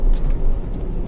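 Tata Punch engine pulling out of a deep muddy pothole on a rough road, a loud close rumble holding steady for about a second.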